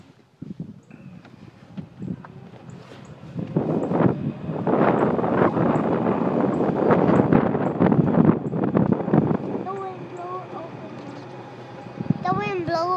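Wind blows outdoors on a chilly day, rumbling and buffeting the microphone in rising gusts while people talk nearby and a voice rises toward the end.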